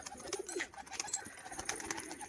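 A male pigeon coos repeatedly while performing its courtship display, the soft throaty coos recurring in short bursts close by over faint background noise.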